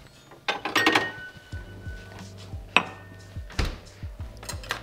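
Ice clinks and rattles against a mixing glass in short bursts as a martini is stirred, interspersed with quiet clicks and brief pauses.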